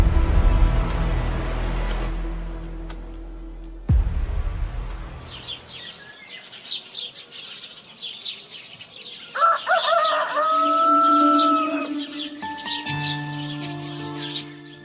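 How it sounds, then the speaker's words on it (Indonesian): Birds call back and forth on a morning, with a rooster crowing and chickens clucking among sharp chirps, while faint hissing noise fades out early on. "Burung-burung liar terdengar saling bersautan"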